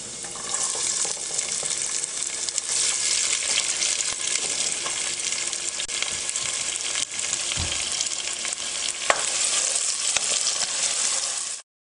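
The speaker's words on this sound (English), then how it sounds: "That sizzling sound is always nice because that means our pan was perfectly hot" Cut vegetables hitting a hot pan with olive oil, a loud, steady sizzle and frying hiss that fills the whole stretch, with a brief stir or clatter partway through before cutting off abruptly.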